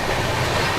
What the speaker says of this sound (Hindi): वहाँ से निकली अभी अपनी गणगौर एक्सप्रेस।